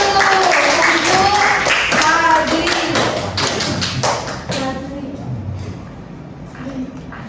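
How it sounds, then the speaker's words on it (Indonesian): Students in a classroom clap their hands during a maths lesson, brisk overlapping claps that are loud at first, mixed with chatter and voices, then fade to scattered taps and quieter talk. "tepuk tangan dulu"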